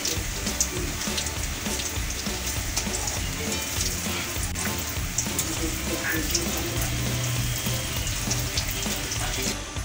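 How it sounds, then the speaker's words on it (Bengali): Mourala fish pakoras fry in oil over a low flame, giving a steady, dense sizzle that runs evenly through the whole stretch with no pauses. "লো ফ্লেমে রেখে আমরা সবগুলি ভেজে নেব"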